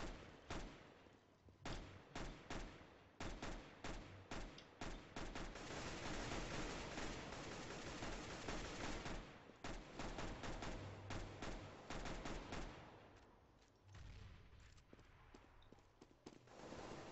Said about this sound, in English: I was just getting shot at from someone